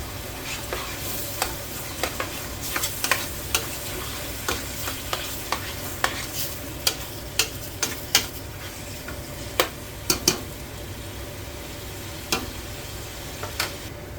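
Pheasant meat seasoned with salt and pepper frying on high heat, a steady sizzle broken by frequent sharp ticks and scrapes of stirring, with no talk.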